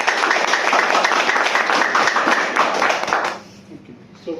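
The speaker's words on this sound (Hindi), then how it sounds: "सो एक बार आप सबके लिए जोरदार तालियां हो" Audience at a business lecture breaking into vigorous applause, dense clapping for about three seconds that then cuts off abruptly, leaving quiet room sound and a faint voice at the end.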